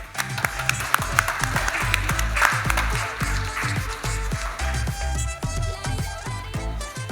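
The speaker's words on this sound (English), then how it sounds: "Full round of applause for Mounir." Conference audience applauding as a presenter is introduced to speak on 5G network slicing, steady clapping with a few sharper claps over a low rhythmic music bed that runs throughout.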